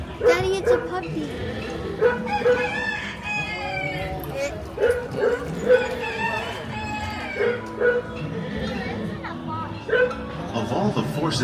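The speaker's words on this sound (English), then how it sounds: "Daddy, it's a puppy." Small dog yips and barks in short bursts over steady ride narration and background music, with people talking nearby in a ride attraction setting.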